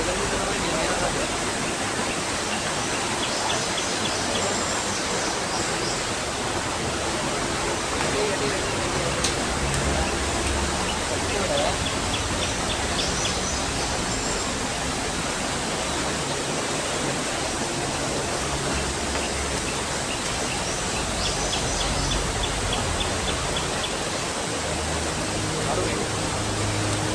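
Water pours continuously along an overflowing roadside canal in rural Sri Lanka, a dense, even rushing roar that stays loud and unbroken from start to finish.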